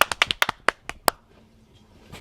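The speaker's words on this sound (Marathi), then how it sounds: "मी म्हणतो टाळी वाजवायची" A person clapping hands outdoors to startle a squirrel, a quick run of about eight sharp, close claps in uneven rhythm, then near silence with a faint tap at the end.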